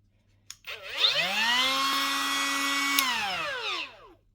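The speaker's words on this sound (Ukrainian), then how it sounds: "Аккумуляторная мини болгарка Прокрафт" A small brushless 12-volt cordless mini angle grinder spins up to a steady high whine, holds for a few seconds, then winds down as the motor stops.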